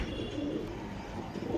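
Rakdar lineage pigeons coo in a low, continuous murmur, close and soft, forming a steady bed of sound with no talking.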